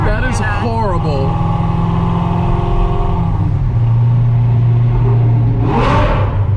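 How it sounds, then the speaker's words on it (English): Lamborghini engine revving amid heavy traffic, rising and falling whines and a sustained low drone heard from inside a car, with people talking over it. "it sounds so good. The Lambo."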